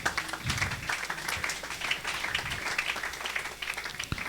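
Church congregation applauding in steady, dense clapping that carries on throughout at moderate loudness, with scattered louder claps and no clear cheering standing out.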